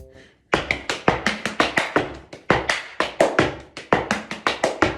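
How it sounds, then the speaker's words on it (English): Body percussion performance of a Khaliji rhythm, the Gulf pattern usually played on darbuka, rendered with hand claps and slaps on the body: a dense, steady run of sharp close taps in a driving repeating groove after a brief quiet start. "Then I created a body percussion version of it."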